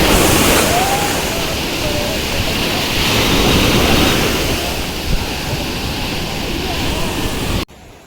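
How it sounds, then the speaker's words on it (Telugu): Large sea waves crash and roar at a Chennai beach, a loud continuous churning surf with wind buffeting the microphone, recorded up close at the water's edge. "పెద్ద అలలు వస్తున్నాయి ఇక్కడ ఘోరంగా."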